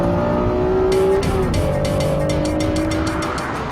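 A Honda NSX's mid-mounted 3-litre V6 with four cams and variable valve timing revs high, screaming steadily and loudly, its pitch rising then settling, with rapid mechanical chatter throughout.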